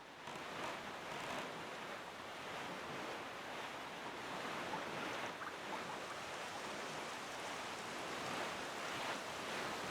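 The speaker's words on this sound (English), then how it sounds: "Well, we're getting some bad weather here." Stormy open sea in Wind Waker HD, a steady broadband roar of surf and wind that holds evenly from start to finish with no talking.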